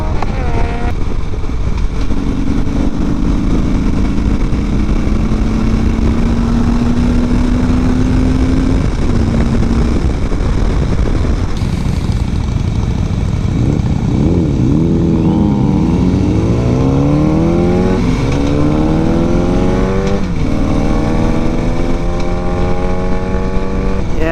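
A motorcycle on a group ride drones loudly and steadily with engine tones shifting as it speeds up and slows, other engines passing nearby, wind buffeting heavily throughout.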